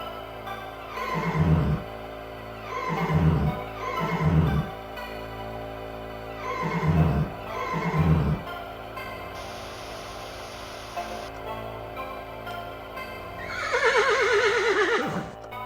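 A video game horse whinnies several times in short bursts, followed by a higher, wavering neigh near the end, with quiet gaps and a faint hiss between.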